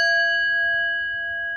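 A slightly smaller singing bowl is struck once, giving a bright metallic ring with several clear overtones that sustain and slowly fade, heard alone.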